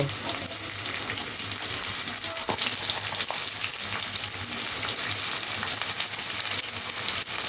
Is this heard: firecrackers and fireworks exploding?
no